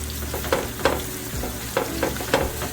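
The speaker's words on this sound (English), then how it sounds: "then we add our mango chutney sauce" Mango chutney sauce hits a ribeye steak sizzling in a hot pan for a Montego Bay-style dish, giving a steady frying hiss with several sharp stirring or scraping clicks spaced through it.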